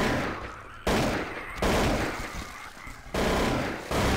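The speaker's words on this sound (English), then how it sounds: "that's that old school AK sound" AK rifle gunfire in a video game: loud, rough bursts of rapid shots in several blocks separated by short pauses, close and dominant, with a stuttering, old-school character.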